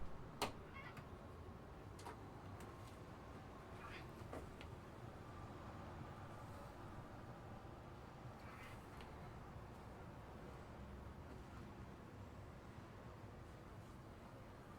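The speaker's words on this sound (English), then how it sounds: "Cat's trying to get inside." A cat meows faintly outside, trying to get inside, with a few short cries over a steady low background hum.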